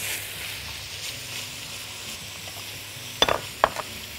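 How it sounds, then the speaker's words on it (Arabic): Minced onion frying in a wok, with a soft, steady sizzle and a few sharp stirring clacks near the end, heard close up. "وسعت لنفسي مكان في الوك، هنزل فيه البصل المفروم."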